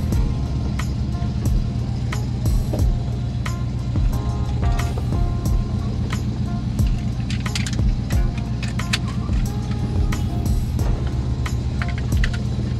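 A car engine idling steadily just after starting, a loud continuous low rumble with irregular ticks and small rattles throughout and no talking.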